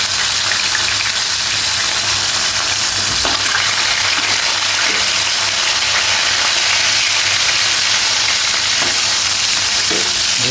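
Steady, loud crackling sizzle of fish frying in hot oil, continuous throughout with occasional small pops and stirring clinks.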